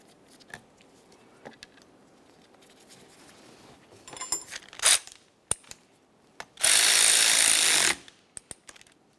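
A power tool runs in one loud, steady burst of about a second, driving the fan clutch mounting bolts on a 2001-2005 Ford Explorer Sport Trac, amid nearby clicks and metallic handling sounds.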